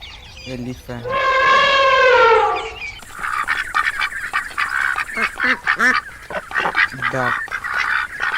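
A duck quacks in a loud, harmonic call lasting about two seconds. Other animal calls and a voice naming animals follow in a children's animal-sounds lesson.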